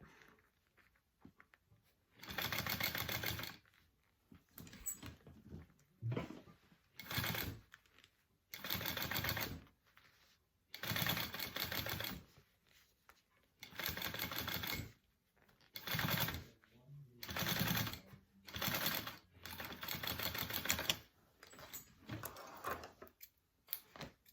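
A sewing machine stitches a fabric panel in repeated runs of steady mechanical whirring, each burst lasting a second or two and separated by short quiet pauses, close-up and with no voices.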